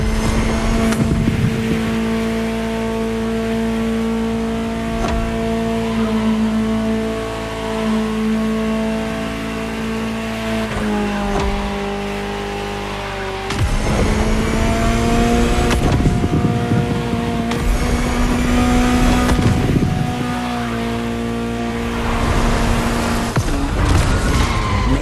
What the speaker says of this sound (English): Just listen to the car you're driving. She'll tell you her story herself.